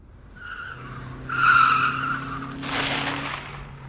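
A car's tires squeal loudly in a sustained skid through a quick turn on a dusty road, rising to a sharp screech and then fading into rough tire scrub, heard close with no voices.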